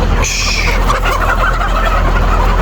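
Loud, close gobbling calls from Arab chickens on a poultry farm in Diyala, with a burst of high calls early and constant coarse bird chatter throughout.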